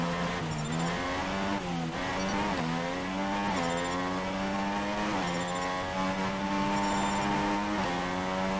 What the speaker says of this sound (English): Unique set of gear changes through the last corner.